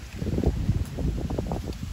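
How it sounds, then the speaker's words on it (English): Steady wind buffeting the microphone outdoors at a zoo, a low rumbling roar that gusts throughout with no clear voices. "Oh, it's windy. It's so windy."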